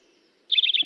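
Recorded wild bird song built from four low-pitched notes produced on one side of the syrinx, heard as a short, bright burst of quick chirping phrases starting midway, clear and fairly close after near silence.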